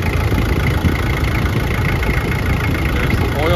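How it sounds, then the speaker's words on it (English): A 1997 Isuzu Trooper with a 3.1 diesel engine idles steadily, a close, rough low rumble with a faint knocking clatter, alone without talk. "Here is the engine running"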